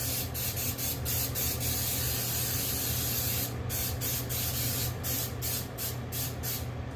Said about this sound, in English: I'm gonna give it a nice little spray of